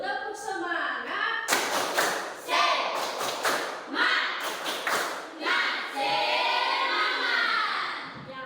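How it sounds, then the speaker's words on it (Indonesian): A fourth-grade primary school class performs the tepuk semangat clap, with sharp group hand claps in rhythmic bursts mixed with chanting children's voices, close and lively. "Jadi mari kita tepuk semangat dulu. Tepuk semangat."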